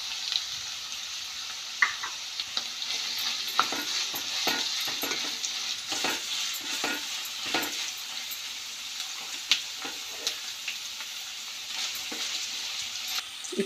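Green chillies frying in oil in a pan while being stirred, for a pindi kura curry: a continuous close sizzle with frequent scraping and tapping from the stirring spoon, steady throughout, with no talk.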